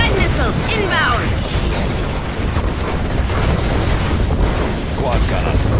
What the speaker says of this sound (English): Scud missiles inbound!